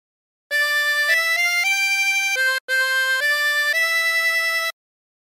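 A melody of Hark the Herald Angels Sing on a 24-hole tremolo harmonica, clear, steady sustained notes stepping up and down in two phrases with a brief gap between them, played alone and close.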